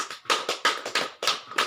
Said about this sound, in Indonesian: Mari kita berikan tepuk tangan kepada kelompok sayur